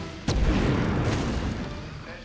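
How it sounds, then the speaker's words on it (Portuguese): Grenade blast in the Medal of Honor shooter, set in a poison gas complex: a sharp, loud boom lands abruptly and rolls into a long rumbling decay, with a voice talking faintly underneath. "Os caras estão lançando granada aqui"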